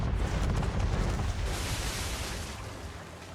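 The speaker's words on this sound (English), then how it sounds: "you just have to use the chain shot in order to destroy the mast" Cannon chain shot fired at a Man of War's mast during an Assassin's Creed III naval battle, a heavy booming blast with rumbling debris that fades out over a few seconds.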